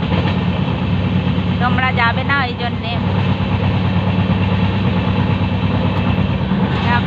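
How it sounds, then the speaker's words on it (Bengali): Steady, loud low rumble of a running train heard from inside the carriage on a trip home to Kolkata, continuous throughout, with a voice speaking briefly over it. "দেখো ট্রেন কত জোরে রানিং হয়ে গেছে"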